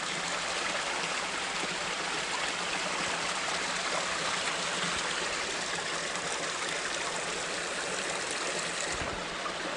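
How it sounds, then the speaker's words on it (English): Steady rushing of a creek flowing over rocks, a continuous broadband wash of water close by with no voices. "I come to this beautiful creek I could have been sitting by."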